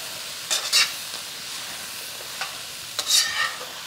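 Grated ginger and pressed garlic frying in a stir-fry pan, a steady soft sizzle broken by a few louder scraping stirs near the start and again toward the end, close and fairly quiet with no talking.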